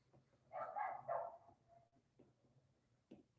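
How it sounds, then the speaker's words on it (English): A dog barks outdoors, heard faint and distant as a short muffled burst of barks followed by a few weaker yips, with no voices present. "The dog barking outside agrees with me."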